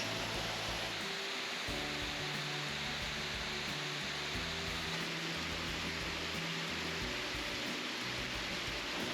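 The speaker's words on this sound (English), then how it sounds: "This isn't a very big waterfall, but it's pretty, isn't it?" A small two-tiered waterfall on Mosquito River at Mosquito Falls in Pictured Rocks, flowing toward Lake Superior, gives a steady, dense rush of falling water. The sound is close and unbroken throughout, with no voices.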